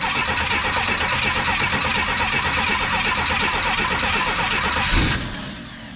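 1950s car engine being cranked by its starter, a rapid rhythmic churning that catches into a loud running roar, then cuts off abruptly and fades.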